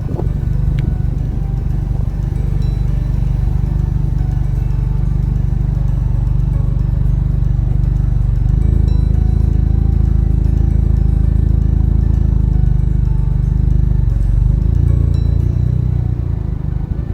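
A 2018-2020 Honda Accord creeps a short way forward and then backs up, its engine a steady low rumble close by with a slight swell partway through, and no talking.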